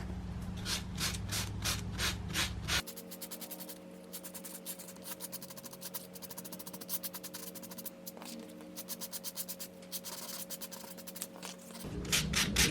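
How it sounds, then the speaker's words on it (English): Sandpaper rubs back and forth along the edges of a paper card in quick, even strokes, close and fairly quiet, with a brief louder scratching burst at the start and again at the end. "So I'm just going to take a little bit of sandpaper and rough up the edges of the card."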